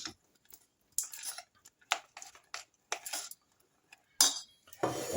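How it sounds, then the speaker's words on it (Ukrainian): A spoon scrapes and clinks against a pot as a walnut mixture is stirred into hot sugar syrup, with sharp, separate metallic strokes at a steady pace that are close and fairly quiet, each set apart by short pauses. "Все гарненько розмішую, тому що сироп дуже швидко застиває."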